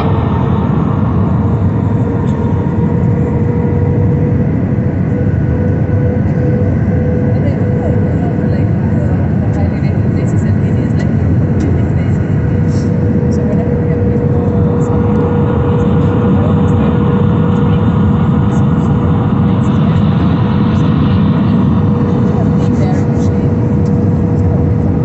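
Steady airliner cabin roar during a landing approach, a loud broadband engine and airflow drone with a faint tonal hum running throughout, with speech over it.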